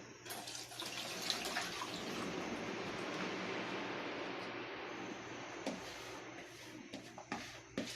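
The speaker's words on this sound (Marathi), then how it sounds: "आता मी हे पाणी यातलं सगळं काढून घेते" Soaking water drains and pours from chopped banana flower in a kitchen, a soft, steady, continuous rush that is fairly faint, with a few small clunks near the end.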